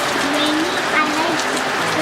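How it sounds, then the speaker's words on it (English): Steady, loud rain pours down during a hailstorm, a dense broadband hiss of drops striking surfaces close by with no pauses; a voice can be heard faintly over it. "It's raining."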